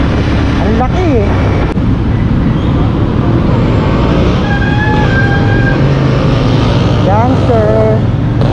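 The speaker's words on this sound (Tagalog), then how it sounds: "Lakas ng makina niya" A CF Moto 450NK motorcycle pulls along the road at speed, its engine a loud constant roar mixed with heavy wind and traffic noise, and voices talk over it now and then.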